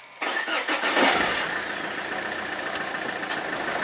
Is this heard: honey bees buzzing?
no